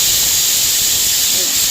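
A pressure cooker cooking dal releases a steady, loud hiss of steam, a bright unbroken whistle-like rush that holds for the whole stretch without pause.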